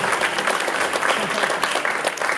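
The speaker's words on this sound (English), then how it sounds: "You're welcome to clap." Audience applause fills a student film festival award night, a dense, steady wash of many hands clapping throughout, loud and sustained with no pause.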